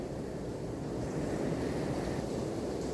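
Heavy pouring rain falls outside, a dense continuous rushing wash that stays steady and fairly loud throughout, with no voices.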